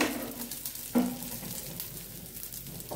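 Oil sizzles steadily in a hot pan while masala dosa cooks, a soft continuous frying hiss with one brief louder crackle, heard alone and close.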